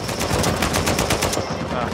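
Rapid automatic gunfire in Uncharted 4, a dense burst of repeated shots close and loud, then cutting off into a ringing tail.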